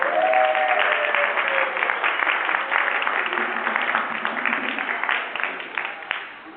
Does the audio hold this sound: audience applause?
yes